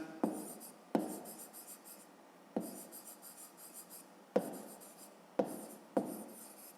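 A pen scratches out the answer to a fifth-grade maths exercise in a notebook, steady close strokes with about seven sharp taps at irregular intervals, and no talking.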